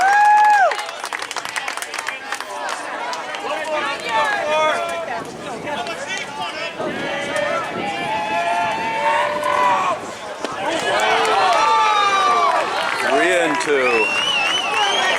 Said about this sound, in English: This crowd is very vocal when they don't agree with something.